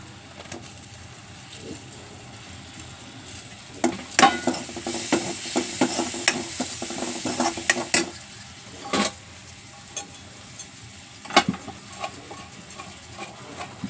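Tomatoes stirred into a pan while frying for biryani: soft sizzling with intermittent scraping and stirring clatter, quiet at first, busier in the middle, with occasional sharp utensil knocks.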